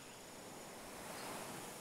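Peaceful ocean waves rolling in on a tranquil tropical beach ringed by palm trees and jungle, a soft, steady broadband wash with a gentle swell, no voices.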